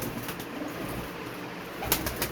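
Teddy breed pigeons coo softly and repeatedly in a loft, low murmuring calls over a steady background hum, with a brief flutter of wings near the end.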